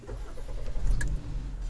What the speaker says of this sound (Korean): 시동을 한번 걸어보면은